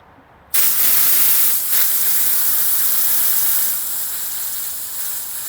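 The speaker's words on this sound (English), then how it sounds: "That should be a good smooth running locomotive." An Accucraft Ruby 45mm gauge live steam locomotive running forward lets out a sudden loud burst of hissing steam that holds steady and close, easing slightly toward the end, with no talking.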